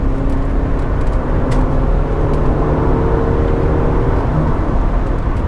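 A Honda Prelude VTEC accelerates to overtake on a bumpy road, its engine a steady, loud drone under heavy road and wind rumble inside the cabin, with no talk.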